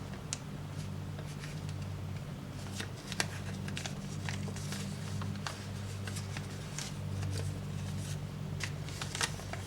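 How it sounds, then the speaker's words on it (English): Origami paper being folded and creased by hand: a continuous soft rustle with frequent crisp crinkles and snaps, close and fairly quiet over a low steady hum, with no talking. "And then unfold it and fold it up the other way."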